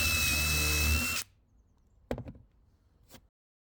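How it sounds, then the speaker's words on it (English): A power drill pre-drills a 38mm wooden slat support strip, running loud and steady for about a second before stopping, then a few clattering knocks of the timber being handled. "we marked up and pre-drilled the two 38mm slat support strips"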